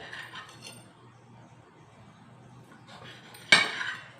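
A knife cuts pieces of food on a board, mostly quiet until one sharp, close knock of the blade striking the surface near the end.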